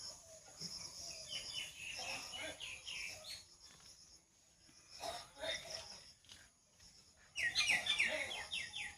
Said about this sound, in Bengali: সুন্দর পাখি ডাকছে।